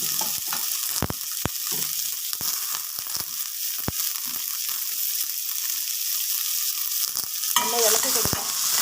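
Sliced onions and green chillies sizzling in a hot pan with oil for egg curry, a continuous bright frying hiss broken by sharp clinks and scrapes of a spoon against the pan.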